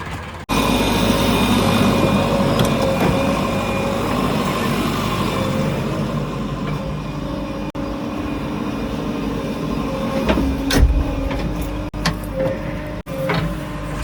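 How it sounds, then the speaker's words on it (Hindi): Sonalika 745 tractor engine idling steadily at a muddy earthworks site, a continuous close rumbling drone with a few clanks and knocks over about fourteen seconds. "तो भाई साहब ट्रैक्टर आया हुआ है सोनालिका 745।"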